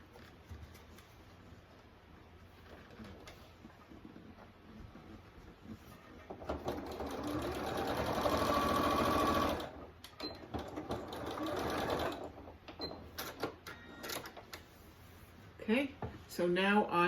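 A sewing machine runs a quarter-inch seam across a photo ID pouch strap, its motor hum swelling into a steady close whir mid-stretch before easing off, with a voice talking intermittently around it.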